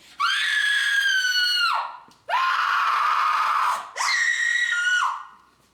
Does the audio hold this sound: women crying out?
yes